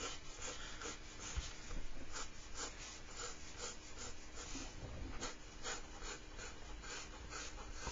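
Pencil scratching across paper while a freehand curve is sketched, a faint rhythmic rubbing of short strokes that repeats steadily with no voices.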